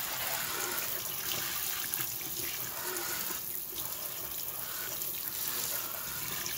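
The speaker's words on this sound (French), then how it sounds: "On va une fois de plus le laver avec de l'eau à température normale cette fois-ci." Tap water runs steadily at normal temperature over a catfish being washed clean, a continuous close splashing rush with no pauses.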